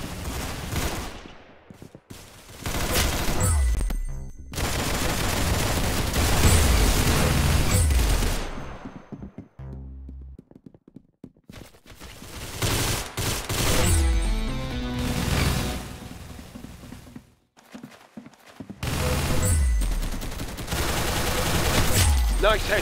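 Heavy bursts of rapid gunfire and explosions in a shooter video game, loud and nearly continuous with a couple of short gaps, some game voices mixed in among the shots.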